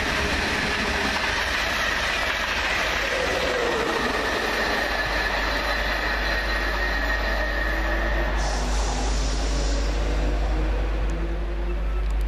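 Fast Class 365 electric trains passing northbound at Alexandra Palace, a loud continuous rush of wheels and rail noise with clickety-clack and faint squeal, steady throughout.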